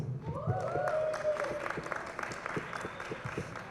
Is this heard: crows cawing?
no